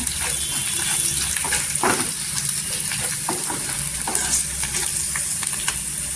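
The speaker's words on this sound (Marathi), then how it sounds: "लसूण पण छान अशी परतून घ्यायची तेलावर एकदम गोल्डन कलरवर." Garlic fries in oil for a tempering, with a constant bright sizzle and crackle and occasional stirring knocks, close and steady.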